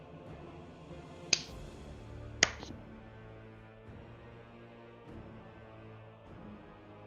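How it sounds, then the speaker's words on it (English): Two sharp, isolated claps ring out about a second apart, then fainter ones follow slowly in a quiet, echoing room. "you hear a slow clap"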